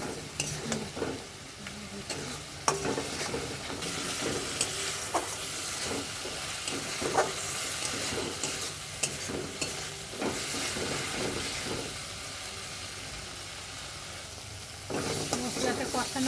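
Spices frying in oil in a pan, with cumin, turmeric and chili powders, garlic and salt, as they are stirred: a moderate sizzle with repeated scraping strokes and clinks, close by, and no speech.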